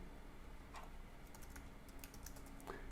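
Soft, close clicks of fingers typing on a computer keyboard, quick irregular keystrokes over a low background hum, with no speech.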